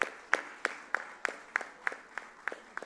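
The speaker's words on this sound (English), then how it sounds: "Please, a round of applause for him." A few people clap slowly in a quiet room for a guest at a Nigerian literature prize book event, about ten sharp, evenly spaced claps, fairly faint and rhythmic rather than a full ovation.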